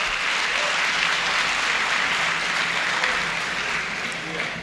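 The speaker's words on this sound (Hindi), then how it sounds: "तालियों से आप उनका इस्तकबाल करें।" Dense, steady applause from a mushaira audience welcoming a renowned Urdu poet at a college poetry gathering, broad and continuous throughout without a break.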